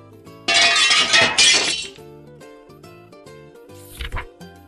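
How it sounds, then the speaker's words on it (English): Plates crash and shatter in a children's reading story, a loud burst of breaking crockery lasting about a second and a half, followed by a brief tinkle of settling shards under light background music. "Crash went the plates."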